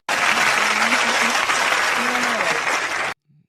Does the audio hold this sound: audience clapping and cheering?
yes